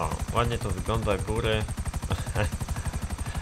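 A helicopter in the snowy GTA Online world thuds with a rapid, regular rotor chop that continues steadily under a man's speech and carries on after he stops.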